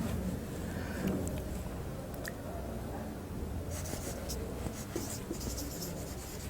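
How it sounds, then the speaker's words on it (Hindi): Marker or chalk scratches and squeaks on a board during an English literature lecture, a run of short strokes with brief pauses and soft speech in the background. "इसको मैं आपको लिख के भी बताता हूँ कि व्हाट इज़ अ मोनोलॉग"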